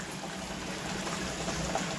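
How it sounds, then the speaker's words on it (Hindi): Water pours steadily into a pressure cooker of browned mutton korma, a continuous close trickle and splash with no talking. "जिसमें मैं उबाली थी वही कुकर खंगाल के मैं पानी डाल दूंगी।"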